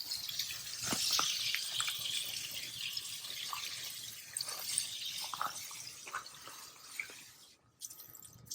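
A garden hose sprays water outdoors, a soft continuous hiss with occasional drips and splatters, steady at moderate distance.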